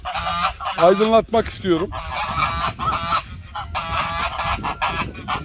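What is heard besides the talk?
Çorum geese honking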